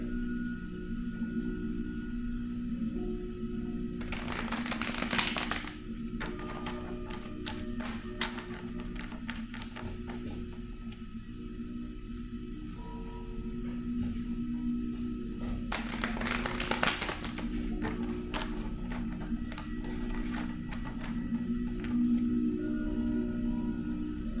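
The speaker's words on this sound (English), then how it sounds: "let me shuffle the cards really quick to see what card we're working with today" A deck of tarot cards is shuffled up close, with two brief rushing riffle bursts set apart by soft taps and card handling under a low steady background hum.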